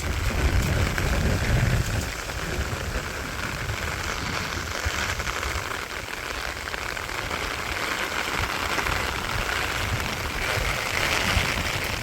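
Heavy rain pours down steadily over a village on a rainy day, a dense constant hiss that stays loud and even throughout with no voices.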